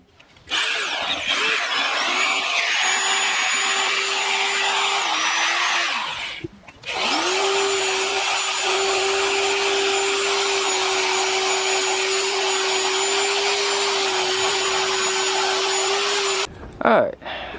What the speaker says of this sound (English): We'll go get the wire wheel out and see if we can get some of that flaky paint off